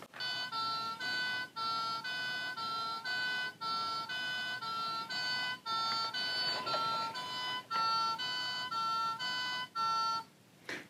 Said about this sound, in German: den Knopf habe ich noch gar nicht gedrückt, ne, um den Alarm auszulösen